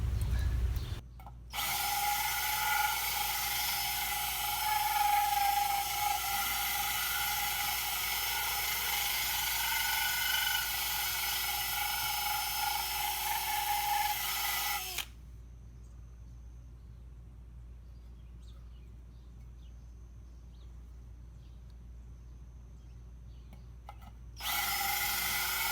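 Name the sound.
power drill drilling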